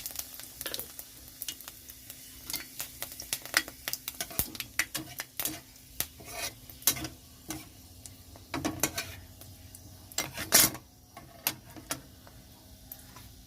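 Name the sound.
dried red chillies and panch phoron frying in hot mustard oil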